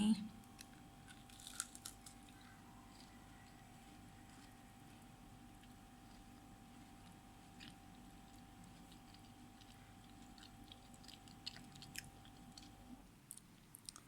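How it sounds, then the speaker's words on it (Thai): Faint crunching of Cambodian-style crispy fried banana being bitten and chewed, scattered soft crackles over a quiet, humming room. "เดี๋ยวจะชิมให้ดูว่ากรอบไหม"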